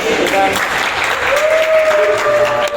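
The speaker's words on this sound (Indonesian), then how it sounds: "Tepuk tangan untuk Pak Anto." Steady applause from a crowd, continuous clapping throughout with faint talk and a sustained tone underneath.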